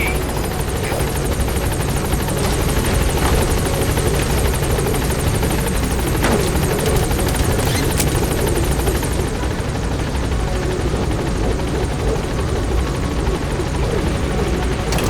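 Helicopter in the video game Metal Gear Solid V flying close, a loud, continuous rotor thrum and whine filling the whole stretch with no break.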